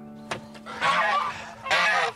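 Geese give two loud, harsh honks close by, with a brief sharp knock just before them and a faint steady hum underneath.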